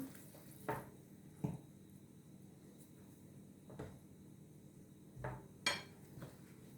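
Dough for soft poğaça pastries mixed in a bowl with a wooden spoon: faint scraping with a few soft knocks of the spoon against the bowl, spaced apart and quiet.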